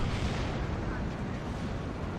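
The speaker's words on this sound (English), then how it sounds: "And bam! Ammo explosion one-shots the Sherman 5." An ammunition explosion destroys a Sherman tank in Steel Division 2, a dense, sustained roar of blasts and rumbling battle noise filling the whole stretch at steady loudness.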